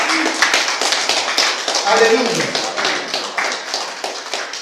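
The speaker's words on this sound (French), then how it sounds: "Est-ce que tu peux donner acclamation au Seigneur pour" A church congregation claps during a Mass, a quick, steady patter of hands under a voice calling out praise and overlapping talk.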